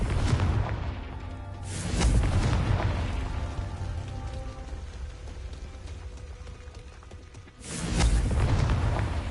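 Two heavy explosive booms from the Confringo blast spell in Hogwarts Legacy, one near the start and one near the end, with a rumbling low-end tail and game ambience between them.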